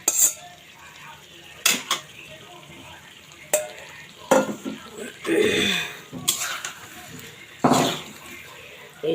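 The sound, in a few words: eggs frying in a pan of spiced curry base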